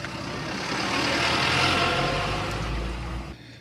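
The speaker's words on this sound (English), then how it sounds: "It's a tour bus." A tour bus passes close by on a rural road in St Thomas, Jamaica, its engine a steady, loud rumble that swells and then fades away near the end.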